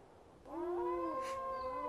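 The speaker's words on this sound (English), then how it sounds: "He howls to keep our pack together." A gray wolf pack leader gives one close, clear howl that rises, holds a long steady tone and slowly tapers, with a soft breathy noise partway through.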